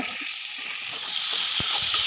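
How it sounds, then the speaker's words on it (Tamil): Plantain slices deep frying in oil in a pan make a steady, hissing sizzle that swells slightly, with a few faint knocks from stirring. "அதை நல்லா டீப் ஃப்ரை பண்ணணுங்க"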